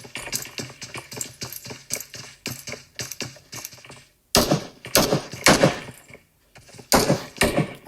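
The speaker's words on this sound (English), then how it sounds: "And here we see Team 12 firing" Gunfire in PUBG during a team scrim match: rapid bursts of sharp shots in quick clusters, then louder, heavier volleys in the second half, with no talk over them.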